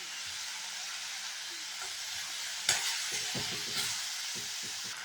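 Curry leaves hit hot oil in a pan while making bottle gourd chutney, raising a steady broad sizzle, with a sharper burst of crackling partway through and scattered clinks and pops afterward.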